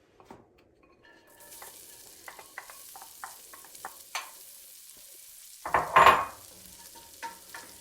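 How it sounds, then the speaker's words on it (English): Onions go into olive oil in a pan for a bolognese sauce, with soft crackling sizzles, scattered light clicks and stirring, and a louder burst of hiss near the end as they are moved around. "once that happens, we're gonna begin by adding our onions"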